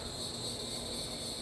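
Steady, high-pitched insect drone fills the air, continuous and unbroken like cicadas on a hot summer day, with no voices.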